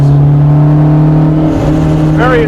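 A Honda S2000 Club Racer idles and blips its exhaust up close, a loud steady low drone with a short rise in pitch near the end, smooth and without backfires.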